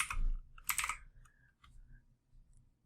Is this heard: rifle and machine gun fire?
no